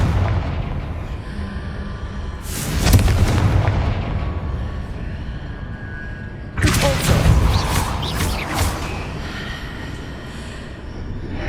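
Confringo fire spells explode in the Hogwarts Legacy video game as two loud, booming bursts a few seconds apart, each trailing into a crackling rumble over a continuous background game rumble.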